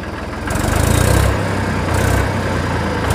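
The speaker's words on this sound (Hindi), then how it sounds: "देखिए क्या शानदार आवाज़ है ट्रैक्टर की" An Eicher 333 tractor engine runs loudly and steadily, its low rumble rising as it revs up to about 2000 RPM and holding at a strong, throbbing drone.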